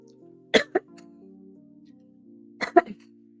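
Two short bursts of coughing and throat clearing, a few seconds apart, over a faint steady hum with no talking.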